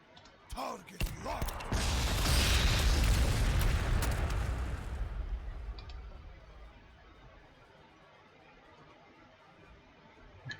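A frag grenade explodes in Warhammer 40,000: Sanctus Reach: a couple of quick pops, then a loud, heavy blast that roars for a few seconds before fading into a low rumbling tail.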